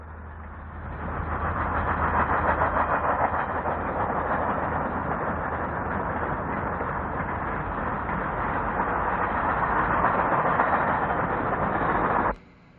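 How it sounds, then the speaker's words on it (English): A Union Pacific diesel passenger train, number 5, rushes past at Gibbon, Nebraska, west of Omaha, as a loud, continuous roar and rumble that swells in quickly, holds steady for several seconds, then cuts off abruptly. "Union Pacific train number 5 kicks up a cloud of dust at Gibbon"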